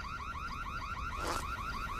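Alarm ringing at the Old Town Hall: a steady, rapidly warbling electronic tone repeating in fast regular cycles, loud and continuous, with a brief noisy burst partway through.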